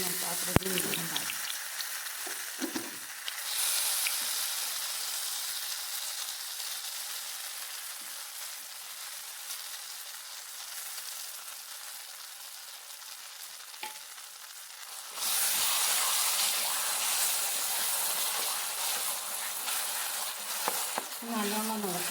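Ripe plantain fries in a pan with a bright, continuous sizzle that quietens in the middle and swells again near the end, with a few soft stirring scrapes.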